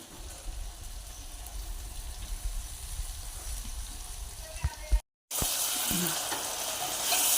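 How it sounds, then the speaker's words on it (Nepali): Mutton coated in ginger, garlic and tomato paste fries in a pan with a steady, close sizzle, broken by a brief silent gap before the frying returns louder. "अब यो पनि म एकछिन फेरि फ्राई गर्छु।"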